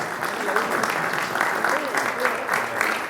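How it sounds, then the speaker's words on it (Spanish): Applause from an audience at a book presentation in honor of a man named Avelino. The clapping is fairly steady and close, and a voice can be heard briefly over the crowd noise. "un aplauso para Avelino por todo lo bien que hace"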